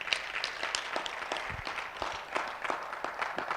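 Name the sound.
applause for the professor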